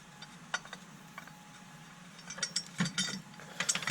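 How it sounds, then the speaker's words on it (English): An electric ratchet backs out water pump bolts on a Chevy Cruze, giving quiet, fast clicking whirs in short bursts that grow busier and louder toward the end, with no talking. "I'm gonna back them out with a electric ratchet"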